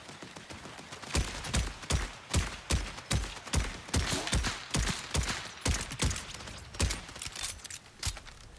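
Auto sniper rifle firing in a video game, a rapid run of about a dozen sharp cracking shots at a steady rhythm, fairly faint, with no talking.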